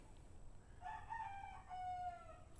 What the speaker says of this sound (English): as soon as I start talking, they start all that racket